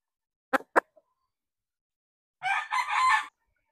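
A street-breed Kelso rooster crows once, close and clear, after a few short sharp knocks, with silence around it.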